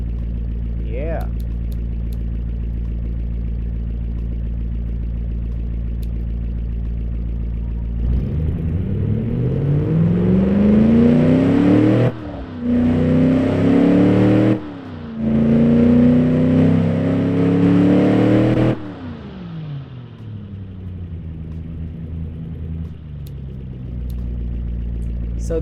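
A stock Chrysler LA 318 V8 idles with a loud, steady rumble, then revs up and holds higher through several blips with brief dips before settling back to idle.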